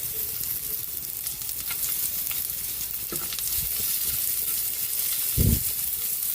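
Onion fries in a pan, giving a steady close sizzle and hiss with occasional stirring scrapes and a brief knock near the end, no voices.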